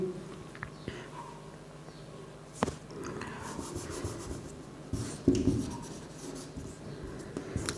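A teacher writing out an English sentence during a Class 10 English lesson, producing steady scratchy writing strokes with small taps and pauses, close and fairly quiet.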